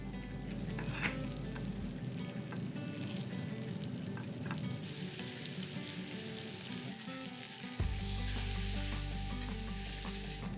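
Blackened fish fillets cook in a pan. A continuous frying sizzle with some stirring clatter is heard, and a low hum cuts out early and comes back near the end. No one speaks.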